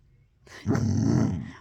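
A puppy growls in a low, rumbling voice for about a second, close to the listener, after a brief quiet start.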